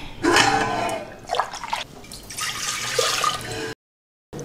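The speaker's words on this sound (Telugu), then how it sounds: "బియ్యం ఉడకడానికి సరిపడా నీళ్లు వేసుకుందాం" Water poured into a cooking pot on the stove for boiling rice, a steady splashing pour in several bursts, fairly close and clear, ending in a brief silence.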